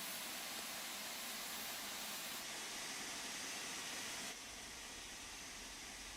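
Steam locomotive in Train Sim World 3 on a West Cornwall railtour in the snow, venting steam as a steady, loud broadband hiss that drops slightly in level partway through, with no talk.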